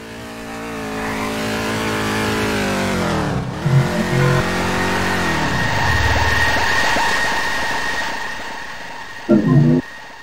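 A loud engine roars steadily, drops in pitch, then surges again, with brief thuds and a rough burst near the end; no voices.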